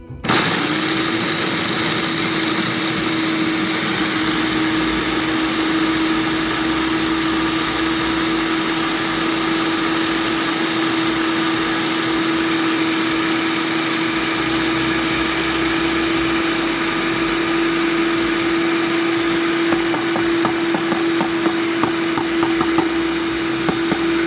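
Blender on high grinding pecans into pecan butter, powered through an inverter, a steady loud motor whine with a strong sustained tone that runs continuously with no break or talk.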